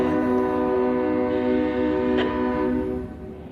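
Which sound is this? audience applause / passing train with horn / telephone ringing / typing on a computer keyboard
passing train with horn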